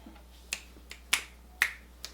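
Five sharp finger snaps ring out alone, unevenly spaced over about two seconds, each crisp and close with a quick decay, the middle two the loudest.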